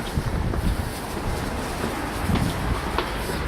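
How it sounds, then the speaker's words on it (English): Steady wind buffets the microphone outdoors, a broad continuous rumble and hiss with gusty low-frequency thumps throughout. "It's windy, but it's still dry"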